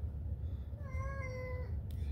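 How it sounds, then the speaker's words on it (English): A cat gives a single drawn-out meow lasting under a second, close but soft, over a steady low background hum. "it's my cat."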